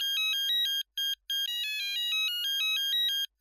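A phone ringtone plays an electronic melody of repeating high beeping tones in short bursts with brief gaps, loud and clear with no talk over it.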